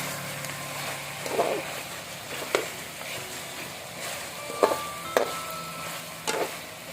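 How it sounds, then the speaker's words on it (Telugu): Chicken fries in a pan as coriander is stirred in, a low sizzle running throughout while a spoon scrapes and clatters against the pan in several sharp bursts, with no speech over it. "కొత్తిమీర వేసి బాగా కలుపుకోవాలి"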